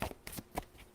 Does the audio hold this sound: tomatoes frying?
no